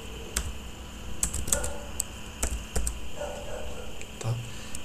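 Keys on a computer keyboard click in short, irregular bursts as OpenGL color code is typed, close and clear over a faint steady room hum.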